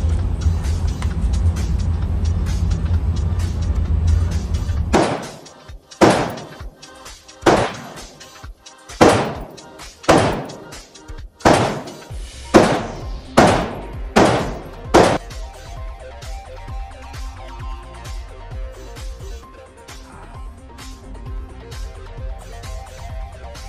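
An AK-47 or AR-15 rifle fires at a target on an outdoor range, about ten loud, sharp shots in a steady sequence with clear gaps between them, preceded and followed by quieter background rumble, with no talking.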